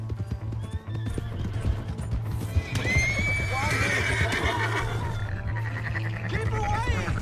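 A horse's hooves clatter at a gallop in the video game Red Dead Redemption 2 while it neighs loudly, with someone shouting over the steady pounding.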